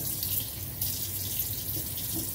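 Steady broadband rush of water running from a tap into a sink that won't hold water despite an engaged stopper, continuous and close, with no talking.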